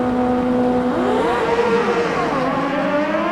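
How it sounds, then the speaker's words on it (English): Two no-bar drag bikes launch side by side in a heads-up race at the 2019 Mancup World Finals, a loud, continuous engine roar with pitch sweeping upward through the gears and overlapping tones from both machines. "A pair of no-bar bikes. They're going to race heads up."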